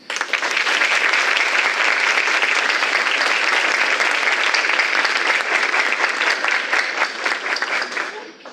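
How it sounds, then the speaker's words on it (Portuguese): Courtroom audience applauding the presiding judge at a mock jury trial, loud sustained clapping that holds steady for about eight seconds before tapering off at the end. "gostaria de pedir uma salva de palmas"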